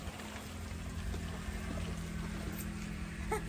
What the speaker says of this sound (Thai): น้ำล้นค่ะ